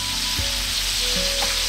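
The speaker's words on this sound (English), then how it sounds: "We're cooking with bacon grease now." Breaded rabbit and squirrel pieces fry in bacon grease in an outdoor wilderness camp kitchen, giving a steady, close, dense sizzle with a few faint clinks over the top.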